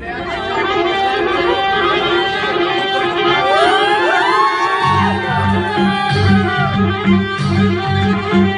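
Guests at a baby shower cheer and shout for a boys' dance group over loud music. The crowd noise is a busy layer of whoops and chatter, and a thumping beat joins in partway through.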